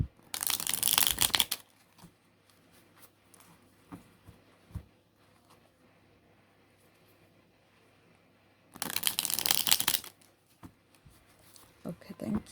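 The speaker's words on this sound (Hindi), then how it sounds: "तो शफल करते हैं" Tarot cards shuffled by hand in two loud, dense bursts of riffling, one at the start and one near the end, separated by quieter handling noises and soft clicks.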